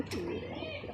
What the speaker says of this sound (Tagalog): Kalapati ni Tony